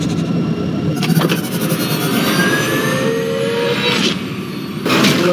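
A spaceship in the game Rebel Galaxy accelerates to sublight speed with a loud, sustained jet-like roar, sweeping whines rising through it and a couple of surging whooshes near the end.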